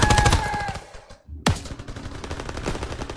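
Machine gun fire in Call of Duty WWII, with a loud rapid burst, a brief gap, then another sharp blast followed by continued quick shots.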